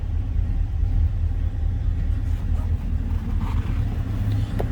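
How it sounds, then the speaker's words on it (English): A deep, throaty V8 engine of a 1963 Ford Fairlane 500 idles steadily after a cold start, its low rumbling exhaust burbling continuously and close by with no voices. "The throaty exhaust, nice sounding V8."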